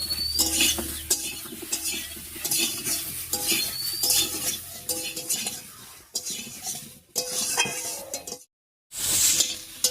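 Ridge gourd frying over high heat in oil with tempering spices, a steady sizzle broken by frequent metal utensil scrapes and stirring clatter against the pan, with a brief silent gap near the end.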